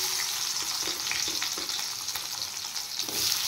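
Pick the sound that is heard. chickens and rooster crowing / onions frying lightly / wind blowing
onions frying lightly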